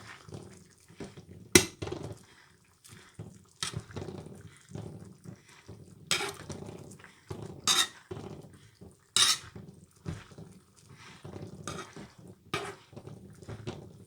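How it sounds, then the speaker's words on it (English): Cooked basella leaves mashed in a cooking pot, with soft squelching presses and occasional sharp clanks of a utensil against the metal pot, irregular and fairly close amid quiet surroundings. "Let me see whether I can mash with one hand."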